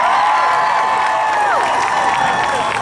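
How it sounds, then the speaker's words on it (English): A large outdoor crowd at the 2019 San Francisco Women's March cheers loudly, with whoops and shouts rising over a dense, sustained roar and a little scattered clapping. "Make some noise if you're an artist in this crowd."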